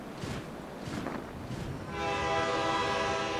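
A train rolls along steadily through a documentary scene set on a 1942 train to New York City, with a loud, sustained multi-tone horn blaring in from the middle and holding to the end.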